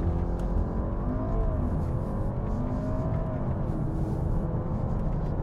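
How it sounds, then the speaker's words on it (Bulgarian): A VW Passat B8 estate with 272 hp pulls away under launch control at full throttle, its engine note climbing steadily through the gears with brief dips at shifts, heard from inside at moderate level with no talking. "Програмата Launch Control е активна. Пускате спирачката и пълна газ."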